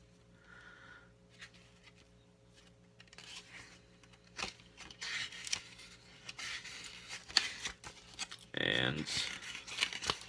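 Pages of a tarot card reference book being turned in a bunch, stiff paper rustling and crinkling in several bursts, with a louder flurry near the end.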